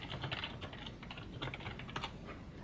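Computer keyboard typing while writing WebGL shader code, rapid steady clicking of keys close up and continuous for the whole stretch.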